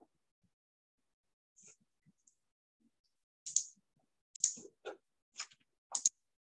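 Computer mouse clicks while setting up a protected range in a Google Sheets spreadsheet, heard as several short, sharp, close clicks spaced out over a quiet background, a few fainter taps earlier.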